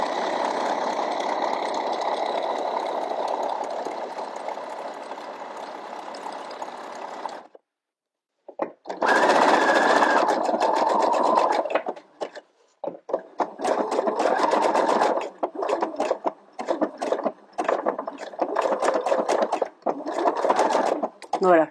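A sewing machine stitching a seam on a women's V-neck t-shirt runs steadily and loud for several seconds, stops, then comes back in a longer burst and a series of short stitching bursts, with no voices.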